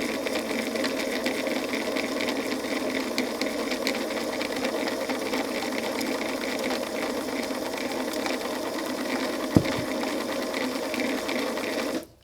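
A sewing machine runs continuously while winding a bobbin of thread, a steady buzzing whir with fine rapid mechanical rattle, one brief knock near the end before it stops abruptly.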